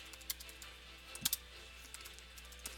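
Faint, sparse keystrokes tap on a computer keyboard, a few isolated clicks with a quick pair in the middle, set against a quiet room hum.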